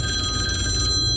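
A telephone rings inside the horror video game Intruder, a steady electronic ring with a faint tonal buzz heard alone against low room hum, continuing for about a second.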